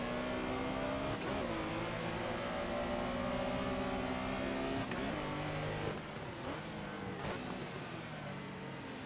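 Porsche Carrera RSR 3.0 race car in Assetto Corsa at Barcelona, its engine droning steadily and loudly throughout, rising and falling through gear shifts, with no talking.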